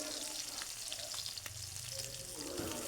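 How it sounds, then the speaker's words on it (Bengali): Fish frying in hot oil, a quiet, even sizzle and bubbling with soft crackles, heard alone at low level for a few seconds. "দিয়ে মাছটাকে একটু ভালো করে ভেজে নিব।"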